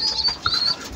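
Breeding pigeons in a loft, with soft coos and chirps close by over a steady low background, plus a faint flutter of wings.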